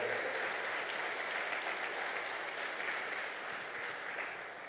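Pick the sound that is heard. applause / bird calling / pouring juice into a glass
applause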